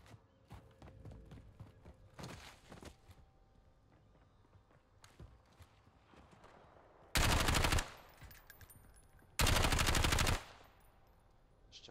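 Two loud, sustained bursts of automatic gunfire in the Warzone video game, each lasting under a second and separated by a short pause, over quieter in-game footsteps and background clatter.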